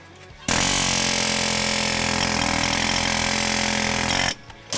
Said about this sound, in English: he's just coming back through with a different chisel attachment on the air hammer